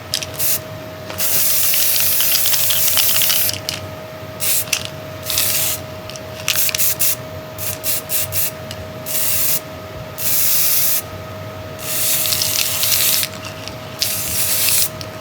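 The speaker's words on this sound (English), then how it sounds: "Let's make sure the spray is good." Repeated bursts of spray hiss from a bottle spraying onto fabric, short sharp puffs in an uneven rhythm, with a steady hum underneath.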